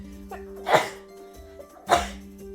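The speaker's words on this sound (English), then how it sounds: "I'm gonna sneeze." A person sneezes twice, two sharp close bursts about a second apart over a low steady hum, each with a brief intake before it.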